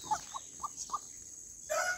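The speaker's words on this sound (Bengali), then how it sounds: "এই হাঁসগুলো যত তত ঘুরে বেড়াচ্ছে," Ducks wander about outdoors, giving several short nearby quacks or clucks in quick succession, then a brief louder call at the end over a quiet background.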